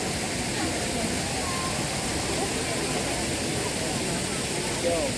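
Steady, broadband rush of flowing water, like a nearby waterfall or cascade, at Magic Kingdom, Walt Disney World, continuous throughout with faint voices mixed in the background.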